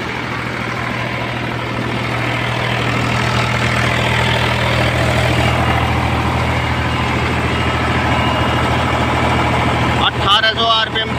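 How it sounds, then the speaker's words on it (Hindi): An Eicher 485 tractor, a 2014–15 model fitted with a large cutter, idles with no load. Its steady low diesel throb stays loud and unchanging, and a brief clatter of other noise comes near the end. "वैसे खाली चल रहा ट्रैक्टर"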